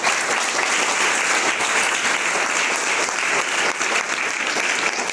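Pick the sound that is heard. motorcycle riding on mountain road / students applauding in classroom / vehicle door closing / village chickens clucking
students applauding in classroom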